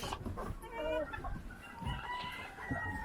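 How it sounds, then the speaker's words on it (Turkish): Chicks clucking and cheeping close by in a coop, a busy cluster of small calls over a low background rumble. "Çok fazla civcivim var ha."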